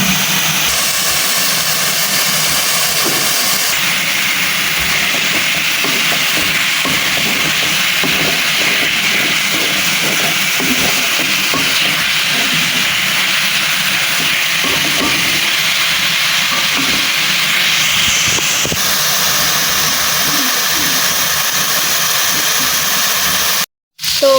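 Bay leaves and spices fry in hot oil in a pan for a village-style chicken and potato curry, giving a loud, steady, close sizzle that hisses on without pause and then cuts off abruptly.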